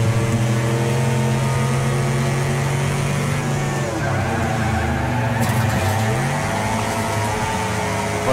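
A race car engine in the video game Wreckfest drones at steady throttle, its pitch dipping and climbing as the driver feathers the throttle, loud and continuous throughout.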